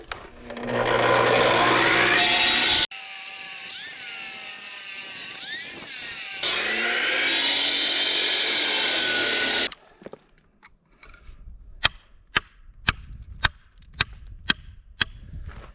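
Loud, harsh grinding of a saw blade through wood for several seconds on a house build, then it stops and a series of sharp, separate chopping knocks follows.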